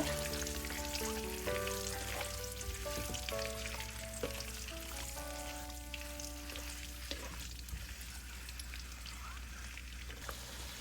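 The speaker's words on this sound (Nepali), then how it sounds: "अब यसलाई मिक्स गरेर फेरि केही बेर अन्डालाई फ्राई गर्नुपर्छ" Eggs fry in a spice mixture for egg biryani, a quiet, steady sizzle with occasional stirring taps, while a tonal musical background plays for the first half and fades.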